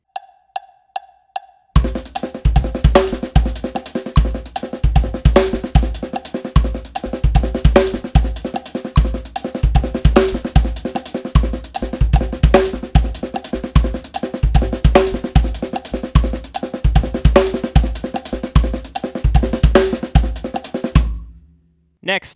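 Drum kit playing a fast linear groove with quiet ghost notes between accented kick, snare and cymbal hits, a busy, driving pattern sustained for about twenty seconds after a few sparse opening taps.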